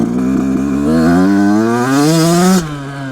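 A brand new Yamaha YZ85 dirt bike engine running too lean and bogging, loud and close, its buzzing note climbing unevenly as the throttle opens, then dropping away abruptly.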